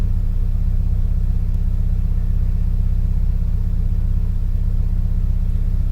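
A Subaru STi engine runs steadily with a low, constant rumble and hum throughout, loud and close, with no voices.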